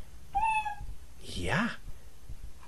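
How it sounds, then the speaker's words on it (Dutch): A pet cat meows twice, a short high call followed by a longer falling meow, close and clear, with people talking around it. "Ja, dat is uw poeske."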